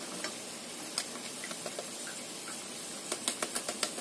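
Potato fritters fry in hot oil with a steady, close sizzle, broken by scattered light ticks and a quick run of crackling pops near the end, with no voices.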